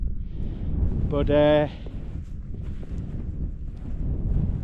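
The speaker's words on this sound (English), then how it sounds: "I've got the wind blowing straight in my face" Wind blowing straight into the open front of a lightweight bivvy tent makes a steady low buffeting rumble against the microphone, while someone talks over it.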